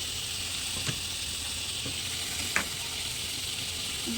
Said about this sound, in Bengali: টমেটোর তরকারিটা বসাচ্ছি।